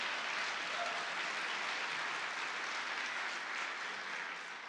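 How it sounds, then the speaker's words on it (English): Steady, distant-sounding applause from a congress hall crowd welcoming a Scottish Labour candidate, an even wash of many hands clapping, fairly faint with no distinct voices. "A big cheer for Tracy, please."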